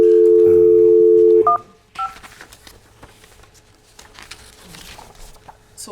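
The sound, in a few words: telephone dialing to call someone in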